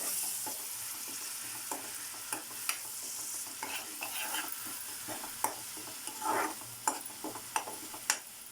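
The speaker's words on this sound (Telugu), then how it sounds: "ఆనియన్ వేసి ఫ్రై చేస్తాను" Onion paste frying in a pan makes a soft, fairly quiet sizzle, broken by sharp taps and scrapes of a spoon stirring at irregular intervals, with no voices.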